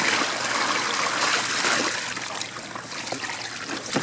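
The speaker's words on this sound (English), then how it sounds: "Look at all that water that was inside Plex's head." Water pours and trickles out of a 2008 Yo Gabba Gabba Plex inflatable sprinkler toy, splashing close by, gradually easing slightly in volume, with no voices.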